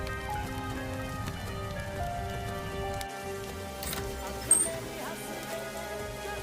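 Heavy rain pours steadily at night, a soft, even hiss of drops on surfaces with a brief knock near the end, with no talk.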